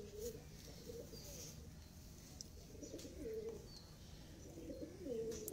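Pigeons coo softly and repeatedly in a quiet, somewhat distant setting, the low rounded calls recurring every second or two over faint background noise.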